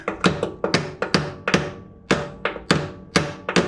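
A small hammer taps on a part of a Craftsman self-propelled push mower under repair, striking a dozen or so sharp, close metallic knocks at an uneven pace with brief ringing after each hit.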